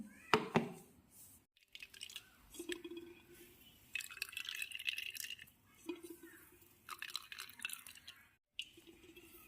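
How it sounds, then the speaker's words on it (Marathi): Homemade almond milk dripping and trickling as it is strained, faint close drips and wet spatters coming and going in short irregular bursts. "असं करून मी हे सर्व दूध जे आहे ते गाळून घेणार आहे बदामाचं"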